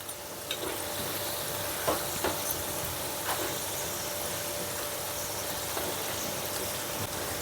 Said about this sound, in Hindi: इसको इस तरह से धीरे धीरे से हमको फ्राई करना है और कंटिन्यू इसको हम चम्मच चलाते रहते हैं ताकि एक तरफ से जले नहीं